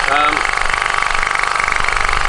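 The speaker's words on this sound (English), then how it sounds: "So the compressor is working, and as you can hear, it's not particularly loud." A small engine-driven high-pressure air compressor filling an air rifle runs close by with a steady, rapid pulsing chug, fairly loud, while a person talks over it.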